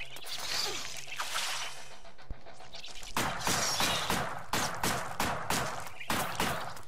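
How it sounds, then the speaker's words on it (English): Gunfire in the video game Blades X, with rapid repeated shots in bursts, loud and close, mixed with whooshing effects and a brief gap before the shooting picks up steadily. "shooting guns for days"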